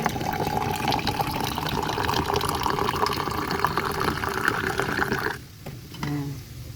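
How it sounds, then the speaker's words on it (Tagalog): Water poured into a cooking pot for sinigang-style shrimp and kangkong soup, a steady continuous splashing fill lasting several seconds before cutting off abruptly. "So maglagay na tayo ng konting tubig."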